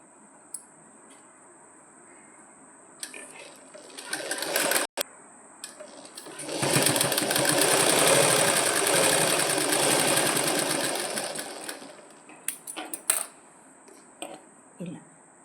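Sewing machine stitching a small double-folded fabric frill during a tailoring lesson, a steady loud whirring run of several seconds after brief starts and clicks, with faint clatter before and after.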